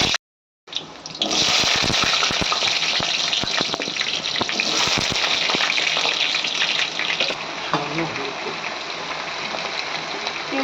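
Potatoes hit hot mustard oil in a kadai and sizzle loudly and continuously, a dense crackling hiss that starts abruptly and stays strong throughout.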